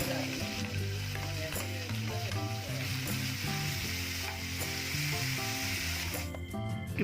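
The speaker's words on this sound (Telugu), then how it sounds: "తరిగి ఉంచుకున్న ఉల్లిపాయలను ఎర్రగా వేయించుకోవాలి." Chopped onions fry in a pan while an egg fry is being made, a steady sizzle running throughout beneath continuous background music.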